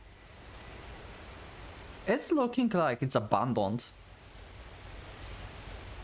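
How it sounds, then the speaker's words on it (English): Steady rain pours outside a window in the video game Kikokugai - The Cyber Slayer, a constant soft hiss filling the whole stretch, with someone talking briefly over it midway. "The rain is still pouring outside the window."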